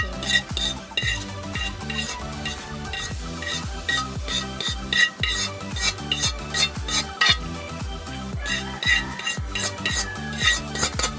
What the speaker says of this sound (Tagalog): Para ma-mix yung oil sa spaghetti tsaka yung garlic.